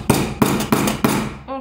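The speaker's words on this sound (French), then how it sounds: "Et hop, le marteau." Hammer striking to punch a hole in a sequin binder, four sharp, evenly spaced close blows with ringing decay, and a short voice sound at the end.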